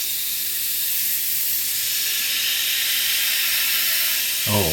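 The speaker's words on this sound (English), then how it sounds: "Okay, put the air pressure on and pull back." Airbrush spraying paint under air pressure while painting a model ship, a steady loud hiss that runs unbroken throughout, with a brief low rumble near the end.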